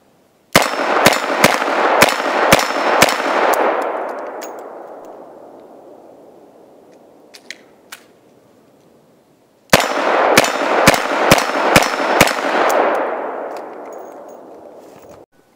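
A .357 Magnum Smith & Wesson 686 revolver fires two strings of six sharp shots each, evenly spaced with ringing tails that echo and fade away after each string, loud and close.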